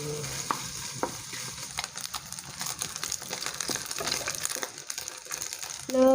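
Chicken skin sizzles and crackles in a hot pan over low heat while a utensil stirs and scrapes, with occasional clinks against the metal.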